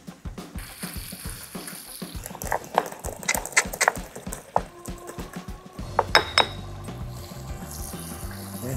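Bean sprouts (togue) drop into a hot frying pan with sautéed tofu and shrimp. Irregular clattering, scraping and sizzle bursts build to a louder rustle near the end, close and fairly busy, with no speech.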